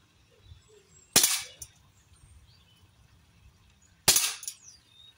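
A Huntsman FAL CO2 airgun in 4.5mm fires two sharp, close shots about three seconds apart in a garden, each a crisp crack with a short tail, with faint birdsong between them.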